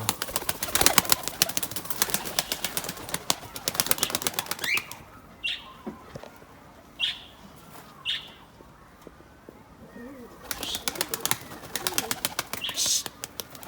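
A breeding pigeon is released and takes off, with bursts of loud, close wing flapping in several separate flurries and faint chirps between them. No one speaks.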